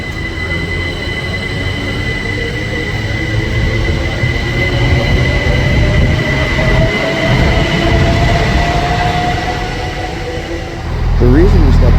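A short two-coach passenger train rolls through a busy station, with a steady loud rumble of wheels on rails and a faint rising squeal as it passes, staying close throughout.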